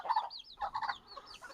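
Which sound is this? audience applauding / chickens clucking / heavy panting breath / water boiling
chickens clucking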